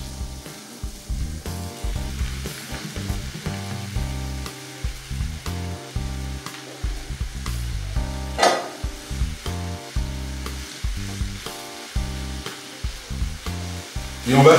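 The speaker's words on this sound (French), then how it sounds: "Là, j'y rajoute la viande." Ground beef sizzling and frying over fairly high heat in a pan with onions and garlic for hachis parmentier, a steady dense crackle with stirring scrapes throughout.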